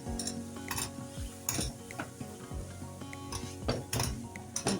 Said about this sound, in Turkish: Şöyle biraz karıştıralım.